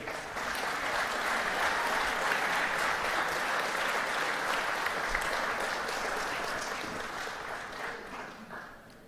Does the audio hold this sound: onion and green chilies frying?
no